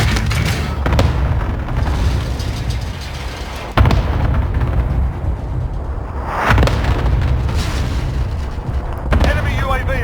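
A called-in artillery strike in Call of Duty Warzone's Verdansk pounds the area with about four heavy, rumbling booms spaced a few seconds apart, with a continuous low roar and battlefield noise in between.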